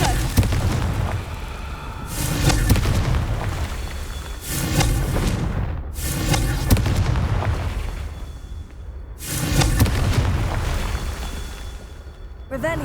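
Repeated spell explosions go off in Hogwarts Legacy, with loud booming bursts at roughly three-second intervals, each swelling and fading, over continuous game ambience with speech.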